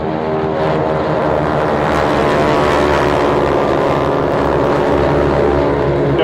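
A Eurofighter Typhoon jet taxis at an air show, its engines giving a loud, steady, rumbling whine that holds without break from start to finish.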